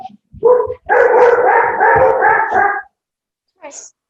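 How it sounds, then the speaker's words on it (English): Dogs bark and yip in a few close, loud bursts inside a home, then go quiet before one short final yelp. "We have a herd of dogs here."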